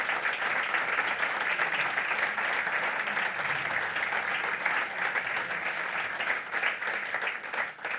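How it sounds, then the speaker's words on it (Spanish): Audience at a book presentation on shamanism applauds steadily for the full stretch, a dense, even clapping from a sizeable crowd with no break or fade. "Yo agradezco que le aplaudan a mi mamá"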